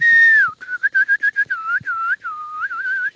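A person whistles a lively tune alone, starting with a long sliding note and then a quick run of short staccato notes and warbles, loud and close.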